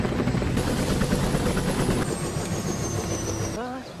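A helicopter's rapid rotor chop throbs loudly and steadily during a flight over the Papua forest, then its pitch and character shift near the end as a voice briefly speaks over it.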